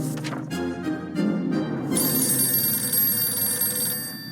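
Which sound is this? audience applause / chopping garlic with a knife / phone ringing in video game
phone ringing in video game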